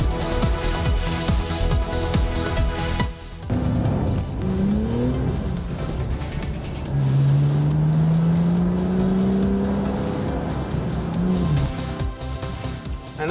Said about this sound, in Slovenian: poskušamo avto spraviti v drift in ga potem tam tudi držati